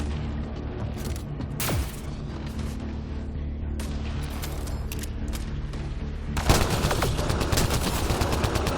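Futuristic space gun firing in Mass Effect Andromeda, titanium slugs at subluminal speed: a steady run of loud, rapid shots over a low game rumble, with a heavier burst near the end.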